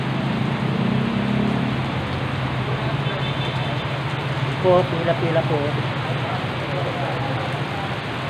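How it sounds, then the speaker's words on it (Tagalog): Heavy rain pours steadily in a dense, continuous hiss while people talk over it and traffic rumbles faintly underneath. "malakas po ulan"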